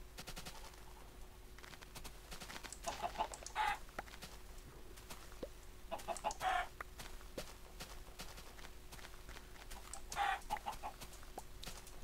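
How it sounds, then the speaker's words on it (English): Chickens in the Minecraft video game give short clucking bursts every few seconds over a steady background hum, with sharp clicking hits scattered between the clucks. "I guess I'll kill these chickens manually"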